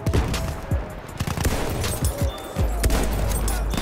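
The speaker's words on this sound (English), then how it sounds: "just destroying people with these bolt action rifles is just... It's just an amazing, uplifting feeling" Bolt-action rifle gunfire in the video game Battlefield 1, a rapid run of sharp, loud shots and impacts crowding over one another in a busy battle soundscape, with no talk.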